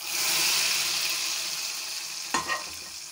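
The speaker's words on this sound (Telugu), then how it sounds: "ఇప్పుడు తాలింపు వేస్తున్నాను. తాలింపు వేసేస్తున్నాను." A hot tempering of dried red chillies and curry leaves sizzles loudly in a pan, then a sharp hiss and crackle bursts out as it is poured into gongura and dried prawn curry.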